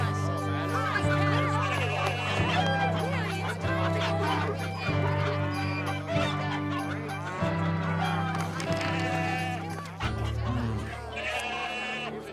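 Livestock in a temple market bleat and cluck over a dense, busy backdrop of music, loud and continuous throughout.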